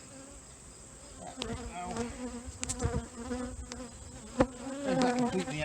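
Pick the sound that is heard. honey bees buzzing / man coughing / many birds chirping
honey bees buzzing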